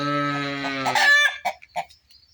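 A hen beside a stove bucket where it laid an egg gives a drawn-out, rising squawk and then a few short clucks, close by and fairly quiet.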